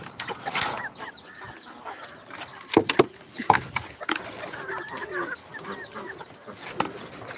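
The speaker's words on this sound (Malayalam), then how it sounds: "ഇതാ കരിങ്കോഴി കരിങ്കോഴിക്ക് ഫുഡ് കൊടുത്ത്" Several black chickens cluck and chatter nearby while being fed, amid sharp clattering knocks, a busy, uneven farmyard scene at moderate volume.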